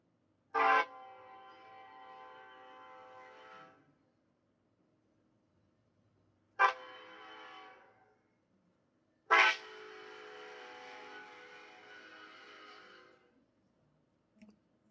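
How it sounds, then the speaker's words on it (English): Three loud train horn blasts sound alone near a residential neighborhood, each a sharp onset followed by a sustained tone lasting two to four seconds, separated by short pauses. "So I'd like to play the train noise."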